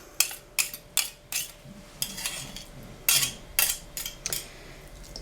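Wooden or metal salad servers toss a potato and endive salad in a bowl, giving a series of sharp clinks and scrapes in irregular bursts, close and fairly loud with no talk.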